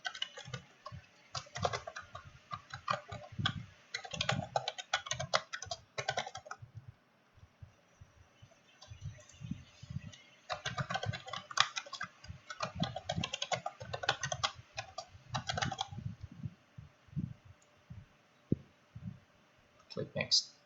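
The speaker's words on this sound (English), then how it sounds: "We'll type in our password." Password being typed on a computer keyboard while setting up a network server in VMware, with two bursts of rapid clicking keystrokes separated by a short pause, close and fairly loud, someone talking over parts of it.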